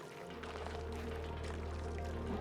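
Continuous water pouring in the colony-building game Oxygen Not Included, a steady broadband liquid rush with a low hum beneath, holding evenly throughout at moderate level.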